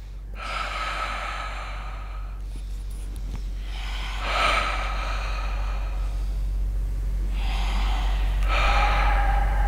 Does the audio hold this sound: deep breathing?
yes